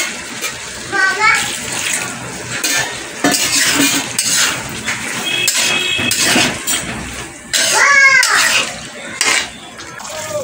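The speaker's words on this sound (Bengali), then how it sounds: "আমি এদিকে বাসন কটা মেজে দিচ্ছি" Dishes and utensils being scrubbed by hand in a home kitchen: cutlery clinks, pots knock and water splashes in irregular bursts close by, with a voice speaking briefly now and then.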